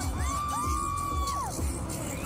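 Fans crowd around an SB19 street busking show at Taipei Main Station, their shrill screams and cheers rising in a sustained, loud wash with a high whooping tone stretching across the middle.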